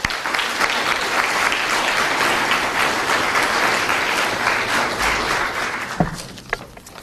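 An audience breaks into loud, sustained applause welcoming speaker Robert Spencer, a dense wash of clapping that holds steady for several seconds before thinning out near the end.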